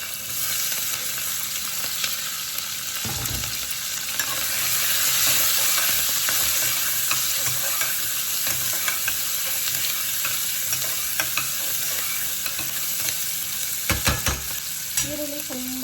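Chopped onions with green chillies sizzle in a hot pan, a constant close hiss broken by a few sharp scraping stirs of a spoon, with no one speaking.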